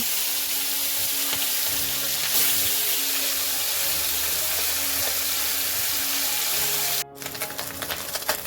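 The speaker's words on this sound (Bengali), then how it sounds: "তারপর মাছগুলো ভেজে নেব।" Fish sizzles steadily in hot oil in a wok, a dense continuous frying hiss that holds level and then shifts into sharper crackling near the end, with no talking.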